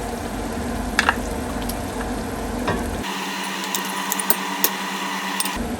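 Spices and a tablespoon of tomato paste cooking in a pot as a sauce, with a steady sizzle and occasional light clinks of a utensil, close and continuous, with no talking.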